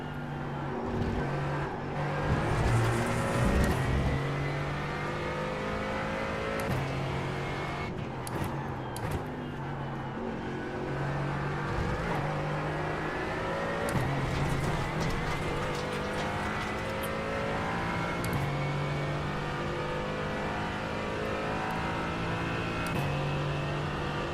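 GT4 race cars engines drone and rev continuously at Brands Hatch in iRacing, with several cars passing close by and occasional tire squeal, steady and loud throughout.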